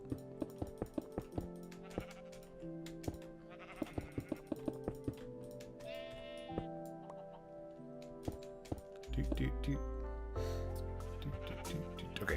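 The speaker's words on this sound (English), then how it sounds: "Sheep, you now live inside of this tower." Sheep in the Minecraft video game bleat over a busy backdrop of clicks and tones, followed near the end by a sustained low rumbling sound.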